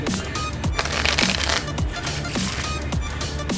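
A deck of playing cards is shuffled during a magic trick, giving continuous riffling and flicking card noise with repeated soft snaps, close and steady with no talking.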